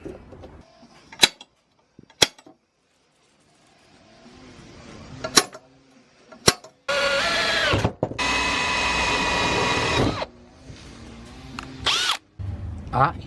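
A power drill bores a hole while fitting a DIY hydraulic clutch setup in a K-swapped Honda CRX, a loud sustained whine running several seconds after scattered clanks and handling noises, then more tool clatter.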